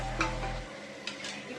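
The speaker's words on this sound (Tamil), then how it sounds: "தண்ணி நல்லா கொதிக்குது" Water bubbles over a flame in a pot for Dindigul wedding-style mutton biryani, a soft, steady seething hiss with faint pops and clinks, heard close and quiet.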